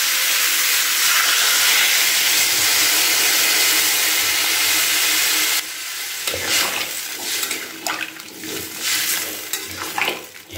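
Loud hissing sizzle as water hits peas and pumpkin frying in a pan, then the steam fades into softer bubbling and stirring clatter.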